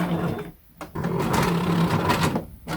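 An inkjet printer running off an art print at home, a steady mechanical whir with rhythmic carriage passes, interrupted by two brief pauses where the noise drops out, close and fairly loud.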